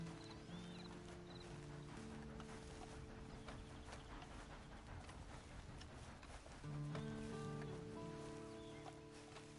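Horse hooves clip-clop in the video game Red Dead Redemption 2, a quiet rhythmic plodding under soft ambient game sound and background music that swells near the end.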